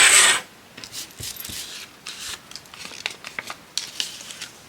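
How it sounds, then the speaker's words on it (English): Paper is ripped by hand for a journal concertina tab, a short sharp tear at the start followed by quieter intermittent rustling and crinkling of the sheet, close and alone. "Let's just rip this down."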